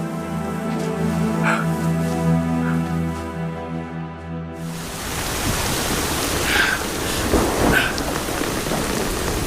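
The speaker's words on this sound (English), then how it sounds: "The endless rain will last another month." Heavy, endless rain sets in after a stretch of sustained musical tones. It becomes a dense, continuous downpour with scattered low rumbles, and no one speaks.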